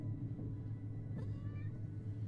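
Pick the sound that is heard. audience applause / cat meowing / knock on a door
cat meowing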